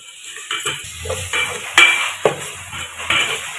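Ginger garlic paste added to a pot of biryani masala and stirred, with a spoon scraping and knocking against the metal pot in irregular taps over a soft sizzle, close up and without speech.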